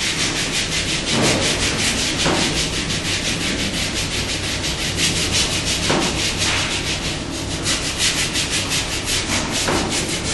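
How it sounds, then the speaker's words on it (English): A surgical hand scrub with betadine and a brush, giving continuous close brisk rubbing strokes, dense and steady with slight rhythmic pulsing throughout, no talk. "do not damage the skin while you're scrubbing"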